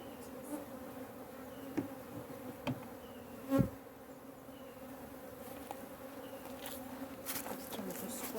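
African honey bees buzz around a hive while being moved to another hive, a soft steady drone with a few brief louder passes and knocks, quiet and close.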